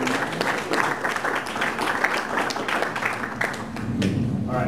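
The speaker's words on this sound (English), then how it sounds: "let's give Dave Murray a big round of applause and welcome him" An audience welcomes a speaker with brisk, continuous applause filling the room at a steady level throughout, with some crowd murmur mixed in.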